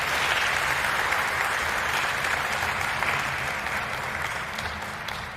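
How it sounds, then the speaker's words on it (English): Audience applause at a 2020 high school graduation ceremony in New Lisbon, a steady dense clapping from a large crowd that holds strong throughout and tapers slightly toward the end. "let's give all those people a round of applause for donating their time"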